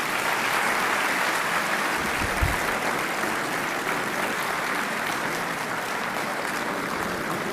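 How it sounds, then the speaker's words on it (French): Steady, sustained applause fills a large hall right after the opening of the Invest in Senegal international investment forum, the clapping dense and even throughout with no voices over it. "Sous vos applaudissements, merci beaucoup."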